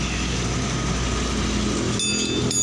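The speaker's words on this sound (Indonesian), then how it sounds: "Jadi ini motornya udah hidup ya" Honda Vario Techno 125 scooter engine idling steadily after starting, with a continuous low hum close by and a brief change in tone near the end, with no talk.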